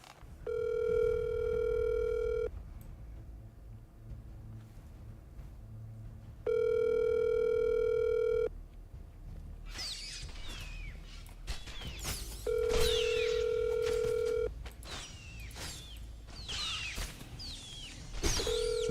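Outgoing telephone ringback tone as a call is placed back to someone; three long, steady beeps separated by pauses, moderately loud, with background game sounds and chirpy effects in between, no talking.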